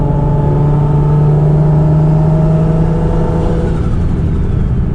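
Loud, steady engine drone with a climbing turbo whir from a turbocharged car running a big performance air filter, heard from the cabin with windows up under sustained acceleration, tone gradually rising and softening toward the end.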